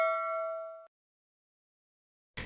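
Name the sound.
notification bell sound effect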